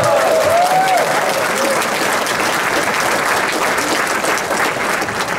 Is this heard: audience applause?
yes